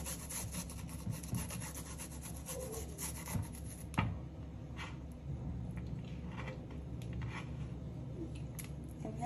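A garlic clove is rubbed back and forth against the back of a grater, giving close, rhythmic rasping scrapes with one sharper knock partway through.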